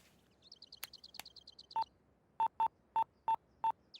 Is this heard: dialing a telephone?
yes